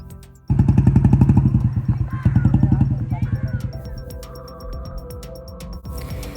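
A motorcycle engine revs hard and close while climbing a gravel hill, throbbing steadily before easing to a lower idle-like putter, with voices faintly underneath.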